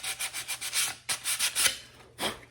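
Repeated hand scuffing strokes rub across an old painted surface to rough it for new paint, a dozen or so short scratchy passes in uneven rhythm, close and fairly quiet with brief pauses between.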